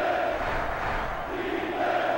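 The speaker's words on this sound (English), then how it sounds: "And now the crowd's chanting defense." Stadium crowd noise in the NCAA Football 07 PS2 game, a steady loud roar with a rising chant of fans calling for defense, sustained throughout without commentary over it.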